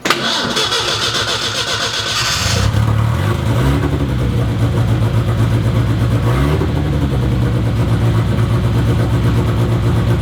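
A car engine with aftermarket eBay headers cranks and fires at about 2.5 seconds, then runs loud and close, the revs rising and falling in steady swells, with a second blip around 6.5 seconds.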